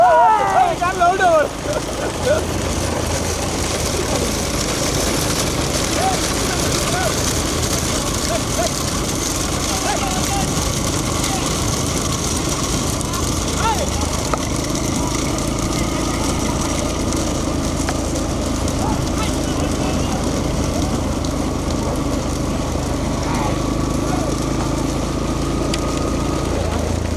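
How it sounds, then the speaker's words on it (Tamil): An engine runs with a steady, continuous drone at a village bull-cart race, fairly loud and unbroken throughout, with people talking over it. "காரு சவுண்டு காரு போடா சவுண்டு"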